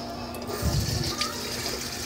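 Tap water runs over a sweet potato being rinsed in a home kitchen, giving a steady close splash that swells briefly in the middle, with a constant hum underneath.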